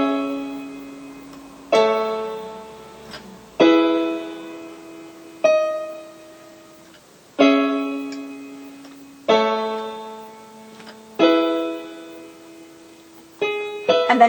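Slow piano arrangement of a song with both hands together: a repeating pattern of sustained chords struck every couple of seconds, each ringing out and fading before the next, played alone with no talking.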